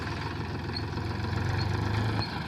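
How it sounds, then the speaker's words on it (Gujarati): Farm tractor engine idles in a steady low rumble with a constant throb and no clear rise in revs, fairly close and with no voices. "ધવલભાઈ ટ્રેક્ટર રાખે છે."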